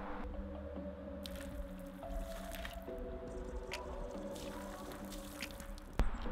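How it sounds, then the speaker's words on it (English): Hot water poured over the rough surface of a small backyard ice rink, a steady wet splashing and squishing close by, with a few drips and a sharper splash near the end. "I think I'm gonna get some hot water on this thing right away"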